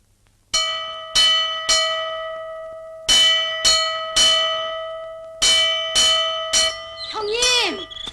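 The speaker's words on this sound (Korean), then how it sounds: "저 종소리를 좀 들어보시오" A bell strikes loudly and close in a steady series of about ten clanging, ringing tones that decay between strokes, in irregular pairs and groups, before a voice begins speaking at the end.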